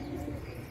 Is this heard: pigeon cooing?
yes